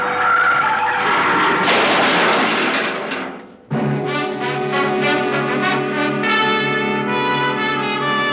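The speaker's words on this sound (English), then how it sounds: "I took my foot off the accelerator and then jammed down on the brakes as hard as I could." In an old-time radio drama, a car brakes hard near a toll gate, tires skidding with a loud rising screech for about three seconds before a sharp cut to a sustained tonal sound.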